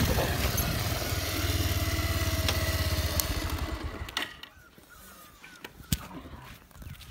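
A motorcycle idles nearby with a steady, low, throbbing hum. After a few seconds the engine fades out, leaving quieter scattered footsteps and small knocks.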